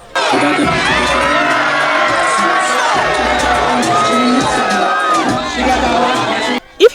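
Concert crowd at a show cheering wildly as the performer throws his shirt to fans, a loud continuous mass of screams and shouts with high excited voices, ending abruptly.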